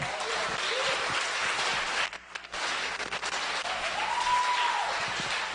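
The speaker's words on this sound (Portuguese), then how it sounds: "Dá uma salva de palmas aí para Jesus." A church congregation claps during a Thursday evening service, a broad steady applause that dips briefly midway and then resumes, with faint voices and cheers mixed in.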